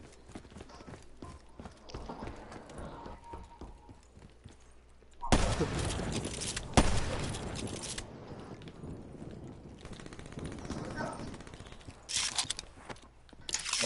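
Automatic weapon gunfire in Call of Duty, loud rapid bursts starting midway and continuing through the clip, with a steadier background rumble; a voice speaks faintly early on.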